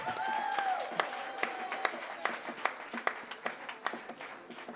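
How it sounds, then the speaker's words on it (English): A small audience at a live music event in Austin, Texas claps for young musicians, with scattered distinct hand claps over a murmuring crowd and a faint tonal sound early on, thinning toward the end. "Let's give a round of applause to all the kids, all the young people who have come out to play."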